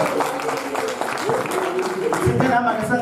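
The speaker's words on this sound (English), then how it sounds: "A round of applause for yourselves" Audience applause at a charity gala dinner, a steady patter of clapping under a voice talking.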